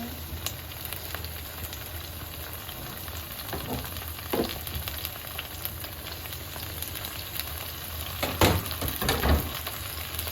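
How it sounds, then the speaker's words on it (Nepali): Tomatoes fry in a pan with a steady, close sizzle and crackle running the whole time, broken by a few louder pops and clatters of stirring near the end. "टमाटरलाई पनि राम्रोसँग पकाउने"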